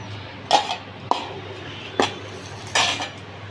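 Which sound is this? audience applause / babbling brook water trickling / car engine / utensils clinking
utensils clinking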